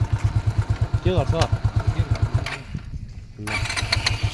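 A motorcycle engine chugs in a steady rhythmic putter while riding, then drops away and cuts out briefly before firing back up and running again, with voices talking over it.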